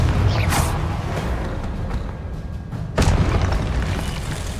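A deep booming blast from the Confringo spell in Hogwarts Legacy, with a second heavy explosion a couple of seconds later, loud and close over rumbling game sounds.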